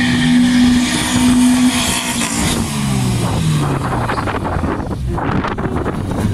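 Race car engines roar in a racing video game, loud and close, with a sustained high whine that pitches and shifts as cars pass, under steady rushing wind-like noise.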